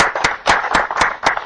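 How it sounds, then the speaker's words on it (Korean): A church congregation claps in thanks to the worship leaders, giving about six loud, close, evenly spaced claps in quick rhythm. "오늘 찬양 수고하신 우리 찬양 인도자들 분께 감사의 박수 한번 하십시다."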